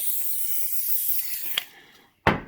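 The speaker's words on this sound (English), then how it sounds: "Bit of spray on the seal." Aerosol lubricant sprayed onto the seal of a Warn ProVantage 3500 winch: a steady close hiss for about a second and a half, then fading, a brief pause, and a final short sharp burst of spray.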